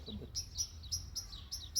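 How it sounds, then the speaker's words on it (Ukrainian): An agitated starling calls outdoors in a Dutch village, giving a quick series of sharp, high chirps repeated about six times in under two seconds, faint and somewhat distant. "Хвилюється шпак."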